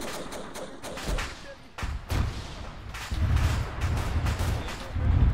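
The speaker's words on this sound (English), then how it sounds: "I'm gonna start popping my nades." Grenades bursting in Arma 3 during a WW1-style trench battle: a string of heavy, booming explosions and thuds with crackling debris, irregular and fairly close, with distant gunfire mixed in.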